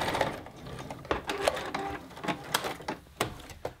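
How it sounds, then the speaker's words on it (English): A sewing machine backstitching at the end of a seam on a reversible round fabric basket, whirring in short, uneven bursts of rapid stitching with brief stops, heard close and alone. "So I'm gonna backstitch."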